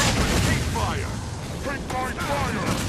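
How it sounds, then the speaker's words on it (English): Explosive ballista shots in the fantasy game Dragon's Dogma, a dense run of booming blasts and rumbling bursts, with someone talking over the noise throughout. "they always use explosive shots, which are quite deadly, so you're gonna see some of those ballista shots"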